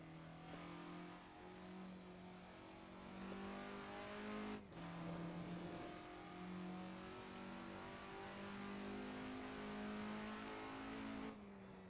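A 1967 Formula Ford race car in Assetto Corsa drones steadily close up, its engine note rising and dipping through gear changes with a brief lift mid-run, under continuous road and tire noise.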